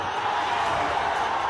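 The crowd at a Tejashwi Yadav election rally in Bihar cheers in a dense, continuous roar of many voices that stays loud and even for the whole moment.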